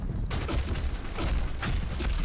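Gunfire in the online shooter Black Squad, a burst of shots with sharp cracks and heavy low booms, dense and continuous, loud and close with no talking.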